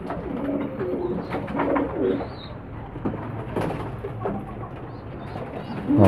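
Domestic pigeons coo repeatedly in soft, low rolling calls, close by and overlapping one another, over a steady background rustle with no talk.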